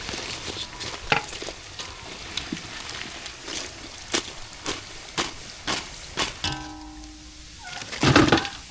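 Masala vadai deep-frying in hot oil, a steady soft sizzle broken by scattered sharp pops and crackles, building to a louder bubbling burst near the end; close and clear, with no talk.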